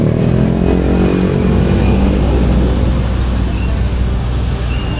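A motorcycle engine runs steadily and loudly close by, a dense low rumble that holds without pause and eases only slightly near the end.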